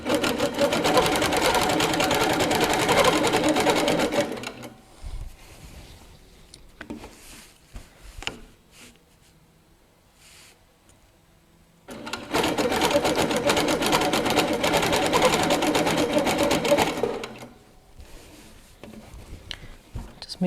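A Handi Quilter Capri stationary longarm quilting machine stitching in two sustained, close, buzzing runs of about five seconds each, separated by quiet handling noises.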